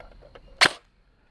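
A single sharp, close shot from an airsoft AEG rifle running on an 11.1-volt battery: one crisp snap that ends quickly, with nothing else around it.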